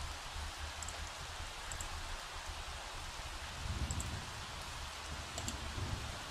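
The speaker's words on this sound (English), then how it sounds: "we're gonna have to travel through the rain, unfortunately" Steady rain falls in The Sims 3 video game, a continuous soft hiss of drops with occasional thicker patches and faint chime-like tones. No voices.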